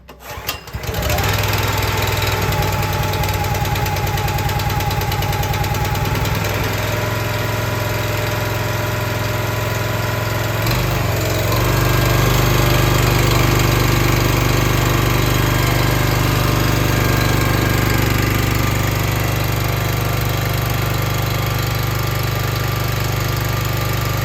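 The small engine on a Brave Pro log splitter starts after a brief rattle and then runs steadily at about half throttle with the choke on, a loud continuous knocking drone close by with no talk.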